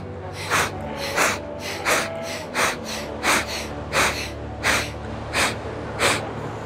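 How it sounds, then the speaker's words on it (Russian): Forceful breathing through one nostril during a yoga pranayama exercise, about a dozen sharp, evenly spaced snorting exhalations at roughly half-second intervals over a steady low background hum, close and loud. "зажимаем одну ноздрю и дышим через одну ноздрю"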